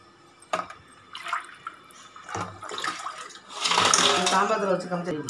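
Shrimp being rinsed by hand in a bowl of water, with splashing and sloshing that grows fuller and louder toward the end, close by, with some faint voice underneath.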